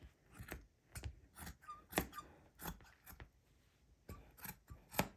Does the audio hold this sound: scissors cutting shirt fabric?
yes